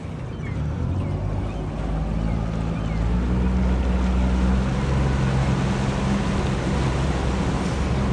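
A harbour tour boat cruises through the port of Hamburg, its engine giving a steady low drone under constant water and wind noise, close and even throughout with no talk.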